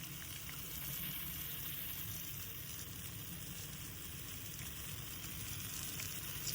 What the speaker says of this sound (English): then you just put in your other batch and make that go and fry